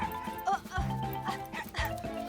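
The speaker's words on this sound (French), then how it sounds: "c'est le chien de ma tante Phyllis" A cartoon dog barks in a children's animated series, giving a few short, close yips and woofs mixed with a whimper, set against light background music.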